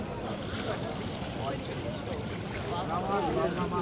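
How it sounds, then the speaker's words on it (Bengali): A motorized trawler boat approaches on the Padma river near a char, its engine a steady low drone mixed with wind and water noise, with voices faintly in the background. "এই যে আরেকটা ট্রলার আসছে দেখেন ওই যে দেখা যাচ্ছে"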